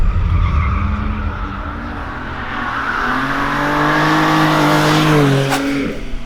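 A BMW M3 drifts with a loud, sustained tire squeal over the engine's roar, the screech rising and holding before it cuts off near the end.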